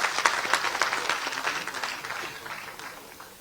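Applause from an audience at a political gathering in Rajasthan, dense overlapping clapping that starts loud and gradually fades over a few seconds, with no speech.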